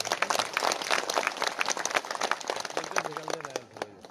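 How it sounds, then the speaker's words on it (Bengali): Audience at a local political meeting in Bangladesh applauding, dense clapping from many hands, loud and steady throughout, thinning toward the end with voices mixed in. "একটু হাতে তালি দেন আপনারা"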